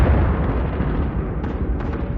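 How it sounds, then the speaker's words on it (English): Gunfire and explosions from the war in the Ukrainian town of Irpin, a continuous loud, rumbling roar of blasts and reports with no clear gaps and no voices. "Everywhere there is gunfire and explosions."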